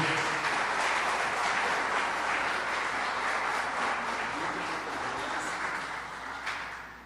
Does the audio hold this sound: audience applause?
yes